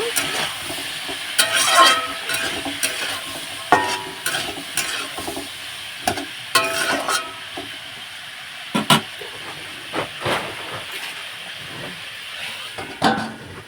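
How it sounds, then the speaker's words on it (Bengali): Vegetables frying with salt and turmeric in a pan on a home stove, a low steady sizzle broken by repeated close scraping strokes of a spatula at an uneven rhythm. "এদিকে ভালোভাবে নাড়াচাড়া করে ভাজাটা"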